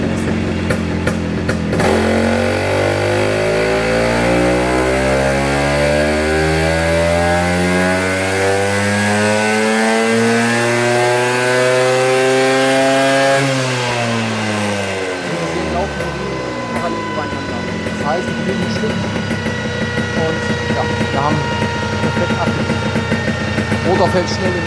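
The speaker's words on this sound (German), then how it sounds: "Motor fällt schnell in den Leerlauf zurück, das ist alles perfekt." A PX 200 scooter engine revs loudly, its pitch climbing steadily then falling back to a fast, rattling idle, close by with a voice talking over it.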